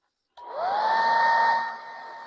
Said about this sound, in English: You don't have to hold the dryer on there for long.